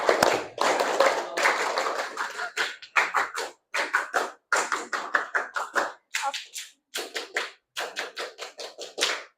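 A seventh-grade class performs the scout clap (tepuk pramuka), a quick rhythmic pattern of sharp hand claps in short bursts separated by brief pauses, fairly close and somewhat loose in timing.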